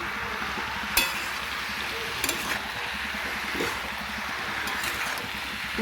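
A spoon stirs chopped bottle gourd with salt and turmeric in a pan. A steady soft sizzle runs throughout, broken by a few sharp metallic clinks of the spoon against the pan.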